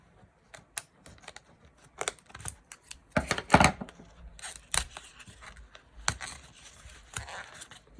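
Several short crisp snips of scissors cutting, irregular clicks and snaps close by, with quiet pauses between them.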